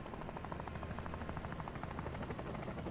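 A helicopter in the tactical shooter Door Kickers 2 drones steadily throughout, its rotor chop forming a continuous, even pulsing hum at moderate distance with no talk over it.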